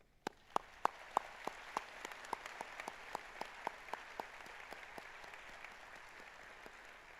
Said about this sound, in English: I invite everyone to join me in applauding their achievements